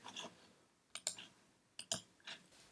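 Computer mouse clicking on a Mac while using Safari: faint, quiet paired clicks in short bursts with small rustling handling sounds in between and no talking.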